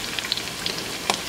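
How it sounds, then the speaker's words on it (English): Chicken flautas fry in hot oil, a close, steady crackling sizzle with scattered sharper pops throughout. "I'm going to continue and fry these up until they're golden"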